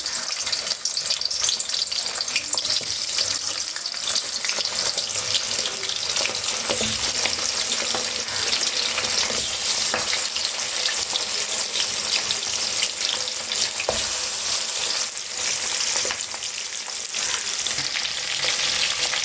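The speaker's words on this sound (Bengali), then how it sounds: "তেলটা গরম হয়ে গেছে, মাছের মাথাগুলো দিয়ে দিচ্ছি" Fish heads dropped into hot oil for muri ghonto fry with a loud, dense, continuous sizzle that stays steady and close throughout, with no talking.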